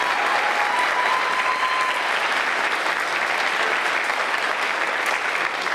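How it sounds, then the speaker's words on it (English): Sustained applause from a pageant audience at a school event, a steady dense wash of many hands clapping throughout, loud and even with faint crowd murmur beneath. "one more round of applause for all of our contestants in the week category"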